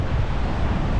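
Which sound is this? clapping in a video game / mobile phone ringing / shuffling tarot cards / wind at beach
wind at beach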